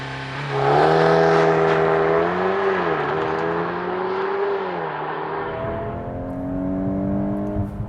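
A 2025 VW Golf R Mark 8.5 launches with launch control, its engine revving hard through rising tones with quick dips at gear shifts, loud and close, then easing off as it settles.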